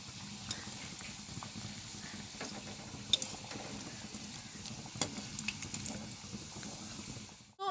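Beetroot cutlets crackle and sizzle in hot oil with a soft, steady hiss, punctuated by a few sharp clicks and taps as the pieces are flipped, fairly quiet and with no talking.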